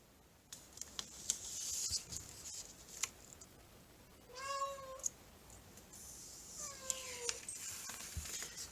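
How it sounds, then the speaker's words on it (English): A house cat meows indoors, two drawn-out rising-and-falling cries a couple of seconds apart, fairly near but soft, among faint clicks and small room noises. "I don't know if you can hear my cat."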